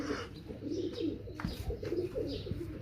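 Pigeons cooing in a loft, including a red-pearl-eyed male beside a Frances-breed female, soft low repeated coos close by with occasional wing or body shuffles.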